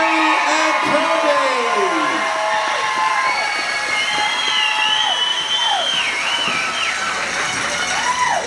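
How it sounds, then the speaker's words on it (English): A dance-event audience cheers loudly after a couple's performance, with sustained crowd noise, high whoops and rising and falling yells filling the space. "Let's hear one last round of applause for Mary and Kobe."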